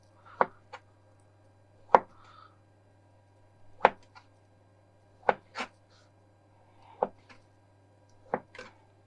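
Sheets of spinach pie dough being cut into pieces with a knife on a board: about eight sharp, close chopping taps spaced irregularly, each one short, with quiet pauses between them.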